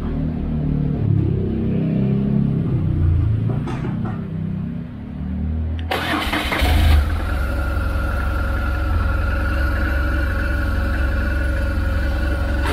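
A BMW R1200GSA motorcycle engine, just serviced after a fuel plug replacement, starts abruptly partway through and settles into a steady, loud running idle with a continuous low rumble.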